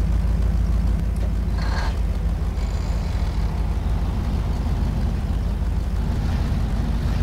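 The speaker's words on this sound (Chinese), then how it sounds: "给大家听一下这个发动机的声音，" Jiefang truck engine idling in a snowy-terrain driving video game, a steady deep loud rumble throughout, with a brief higher rattle partway through and no talking.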